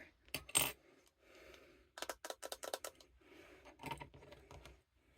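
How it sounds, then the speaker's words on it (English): Fingernails click and tap on the case of a color-correcting foundation product, quick light taps close to the mic in a brief cluster and then a second run, with no talking. "Little nail ASMR right there."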